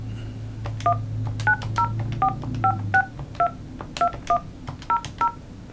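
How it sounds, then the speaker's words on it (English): Dual-tone beeps sound as a phone number is keyed in on an LG iPECS desk phone, about a dozen short, clear tones in an uneven rhythm, played back up close over a low hum. "Now input the number just like you would dial it."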